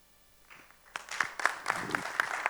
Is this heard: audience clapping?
yes